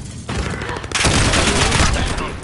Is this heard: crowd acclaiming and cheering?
no